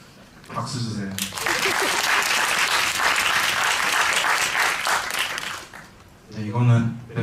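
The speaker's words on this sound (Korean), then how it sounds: "박수 주세요." An audience applauds at a band's film screening and talk event in a Yongsan cinema. A burst of loud, sustained clapping follows brief speech, lasts around four seconds, then dies away as talking returns.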